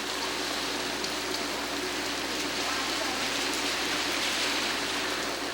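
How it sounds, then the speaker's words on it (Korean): Rain falls steadily outdoors on the way home, forming an even, unbroken hiss of drops at moderate level with no voices over it. "오늘처럼 비가 내리면 별 수 없이 비를 맞아야 한다."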